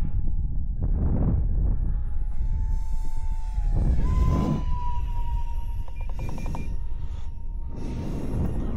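A twin 40mm electric ducted fan radio-controlled model plane in flight gives off a thin whine that rises and shifts in pitch. Gusty rushes of wind and passing noise come and go beneath it, and no one speaks.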